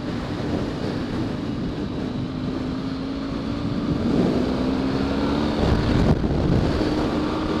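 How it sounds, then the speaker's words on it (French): Strong wind roars steadily over a moving off-road BMW F 650 Funduro motorcycle beside wind turbines, with a low engine drone running underneath and gusts building louder toward the end. "La vache, ça souffle bien ici le vent."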